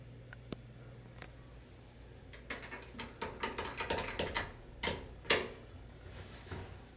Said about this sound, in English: I heard the relay